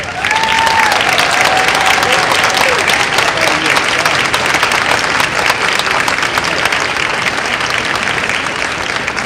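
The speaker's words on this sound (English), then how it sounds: "let's give them a round of applause" An audience claps for students standing at a school building open house, a dense, loud and sustained round of applause from a crowd that keeps going at an even level throughout.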